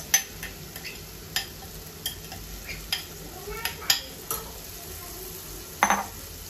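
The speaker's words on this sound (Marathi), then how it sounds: "आता मी हे आपले भिजवलेले मसूर त्यात सगळे घालून घेते" Soaked lentils go into a pan and are stirred, giving a soft sizzle under a series of distinct spoon scrapes and taps against the pan, roughly once a second, close and quiet, with no talking.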